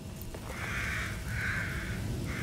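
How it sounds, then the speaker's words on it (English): Crows cawing in the horror video game The Evil Within: three drawn-out, hoarse caws in steady succession, moderately close, over a constant low ambient drone. "If I kill the crows, I'm not gonna kill the crows."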